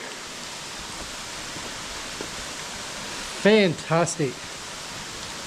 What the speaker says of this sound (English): the waterfall's got nice flow